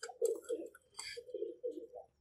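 A red-eyed Teddy pigeon coos in a loft, close and clear, a few soft throaty rolling phrases with short pauses between them.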